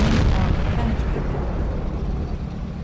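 Heavy tank cannon shot fired at an E-100's lower glacis in a tank video game, a loud booming blast that rumbles and decays over a few seconds.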